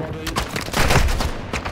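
Video game gunfire crackles in a quick burst of several overlapping shots, loud and close, with a brief gap before a final shot near the end.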